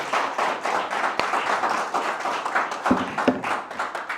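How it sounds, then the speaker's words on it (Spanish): A church congregation claps steadily, a dense patter of many hands applauding at moderate volume, with a few sharper individual claps standing out. "denle un aplauso al Señor"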